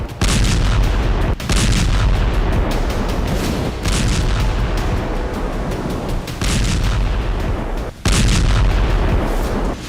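Heavy artillery fire and explosions in Lebanon boom out in loud, dense bursts one after another, with brief gaps between the blasts and no voices.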